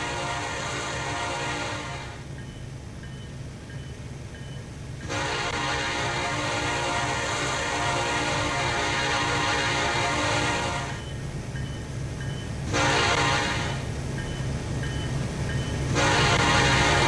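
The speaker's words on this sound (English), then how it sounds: "The train has 4 locomotives." A freight train pulled by four locomotives rumbles past in a railfanning simulation at Whistleton, North Carolina, its horn sounding in long, loud blasts separated by short gaps over the steady rolling noise.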